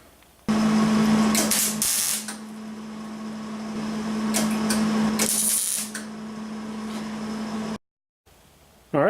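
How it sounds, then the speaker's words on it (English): A metal torque converter side cover is tack welded. A steady, close electric welding buzz and crackle carries on for several seconds with brief breaks, then stops abruptly. "I'm gonna go ahead and tack this thing up"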